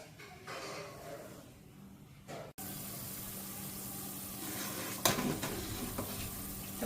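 Sugar syrup simmering in a pan with cinnamon and cloves, a steady bubbling hiss with occasional stirring scrapes, close and fairly even, briefly cut off partway through with no talking.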